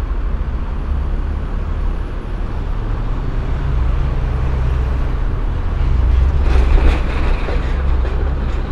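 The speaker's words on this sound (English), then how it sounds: "Another tram is coming, it's right here." An aerial tram car arriving at its station in Manhattan, heard as a steady, loud mechanical rumble and rolling clatter that swells slightly as it draws near, with no talking.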